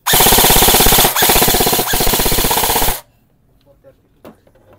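G&G SBR airsoft rifle firing full auto, a loud, close, rapid mechanical rattle of shots lasting about three seconds with two brief pauses, then cutting off to near quiet.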